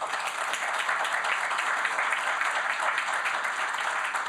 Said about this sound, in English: join me in a round of applause for our brilliant panelists.